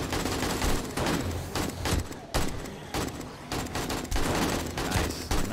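Dense gunfire during a horde night in the video game 7 Days to Die, with rapid overlapping shots and bursts rattling continuously at loud, close range.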